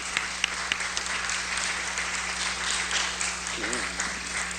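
Audience applause after a panel discussion, a steady wash of clapping from a crowd over a constant background hum, with a brief voice heard near the end.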